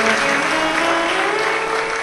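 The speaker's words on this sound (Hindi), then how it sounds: "एक बार जोरदार ताली बजाकर सभी को साधुवाद" Strong, steady applause from a crowd at a live Shiv Mahapuran katha, loud and continuous throughout with no break.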